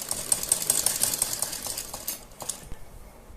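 Sewing machine stitching a semi Patiala salwar, a fast, steady run of mechanical clicks at close range that slows and fades out near the end.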